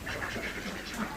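Male ducks on a small farm quacking in a steady, close chorus of overlapping nasal calls that fill the short moment without pause.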